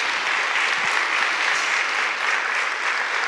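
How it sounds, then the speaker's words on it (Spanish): Women's church event audience applauding, a steady, dense burst of many hands clapping close and fairly loud throughout, with no voices standing out. "Un aplauso para todas entonces."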